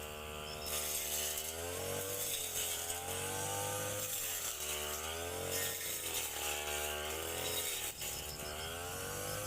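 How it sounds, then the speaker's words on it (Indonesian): A loud, close brush cutter engine whines continuously, its pitch rising and falling in repeated surges as it cuts through weeds in an areca palm plantation. "pembersihan gulma di lahan kebun pinang dengan menggunakan mesin potong rumput"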